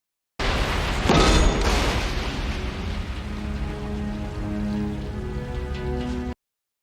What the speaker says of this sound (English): Literally heard that thunder and that rain